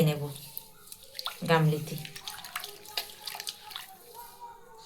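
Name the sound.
rinsing batter out of a blender jar with water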